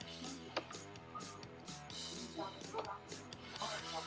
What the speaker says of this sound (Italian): quindi andiamo dentro col cacciavite taglio